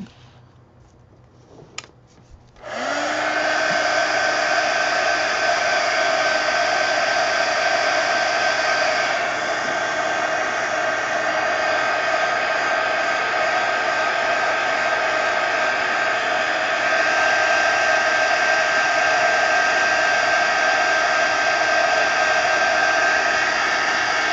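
A hair dryer dries a painted art journal page. After a brief click it starts and runs loud and steady for over twenty seconds, a close whooshing hum with a whine on top and no talking.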